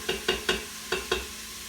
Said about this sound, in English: let it saute for 3 to 4 minutes